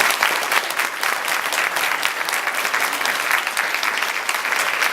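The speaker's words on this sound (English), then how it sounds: "Please give him a warm round of applause." An elementary school audience applauds for a guest speaker, a dense, steady wash of many hands clapping at once that stays loud and even throughout, with no talking over it.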